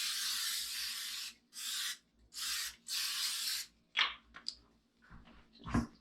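Cooking oil spray greases a baking pan in four short, close hissing bursts, followed by a few soft scraping and clattering handling noises.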